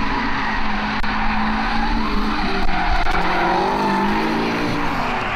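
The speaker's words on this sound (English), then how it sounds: "we're actually here to watch Dale, who is one of the employees of AMS, do some drifting" A BMW drift car skids at Jefferson Speedway in Wisconsin, its tires squealing continuously over a loud, straining engine roar that stays intense throughout.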